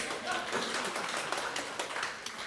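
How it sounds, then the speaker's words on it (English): Audience applause at an awards ceremony in Anguilla: dense, steady clapping from a crowd, moderately distant, with some voices mixed in. "Round of applause, everybody."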